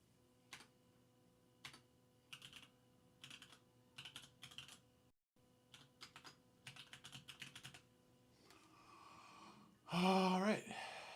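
Bursts of computer keyboard typing come in clustered runs with a brief pause midway, near and moderate in level, and a short loud noise bursts in near the end.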